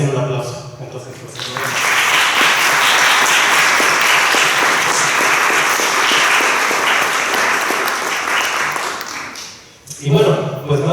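Sustained applause from a conference audience at a Mexican topology workshop plenary, a dense even wash of clapping lasting about eight seconds that swells in quickly and fades near the end, with brief talk before and after.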